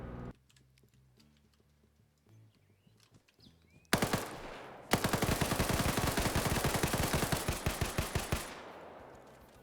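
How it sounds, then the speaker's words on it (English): A PvP video game match: quiet ticking game sounds give way to loud, sustained rapid automatic gunfire close by, with a brief break before a long burst that fades at the end. "Zixmi just had multiple shots put on Banks, and it did nothing"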